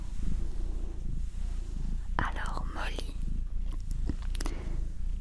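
Soft purring from a six-month-old Maine Coon kitten being cared for up close, a low steady rumble that runs under quiet whispered French talk, with a few brief scratchy rustles.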